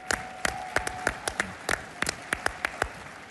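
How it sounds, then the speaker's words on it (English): Sparse clapping from an audience at a conservative political conference, a dozen or so distinct sharp claps spread evenly over a few seconds rather than a full ovation, set against a faint room hum. "Give yourselves a round of applause."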